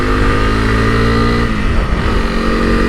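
A Honda CRF 300 Rally motorcycle engine lugs at low revs around 3,500 rpm, a loud, close, throbbing drone that stays at one steady pitch while riding on the road.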